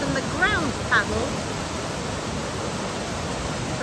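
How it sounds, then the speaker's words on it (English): Water churning up from an opened ground paddle at a narrowboat canal lock, a steady broadband rushing and bubbling wash that stays even throughout, with a couple of brief bird-like chirps near the start. "See that water bubbling up there? That's from the ground panel"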